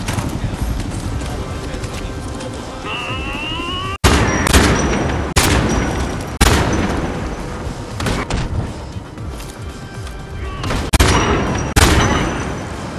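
Loud bursts of gunfire from a Homefront: The Revolution firefight crack out repeatedly, with sharp, close shots and volleys starting around four seconds in and continuing in uneven clusters over a busy game background.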